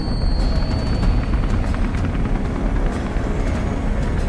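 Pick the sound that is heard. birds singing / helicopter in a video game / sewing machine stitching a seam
helicopter in a video game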